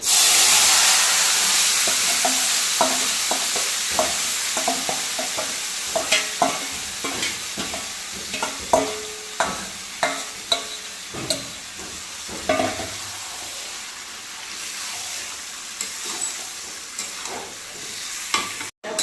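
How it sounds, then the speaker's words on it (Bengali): Marinated chicken sizzles in hot oil with whole garam masala spices, loud continuous frying hiss broken by repeated scraping stirs that grow more distinct as the sizzle slowly settles. "আমি ম্যারিনেট করা চিকেনটা এর মধ্যে এবার দিয়ে দেবো।"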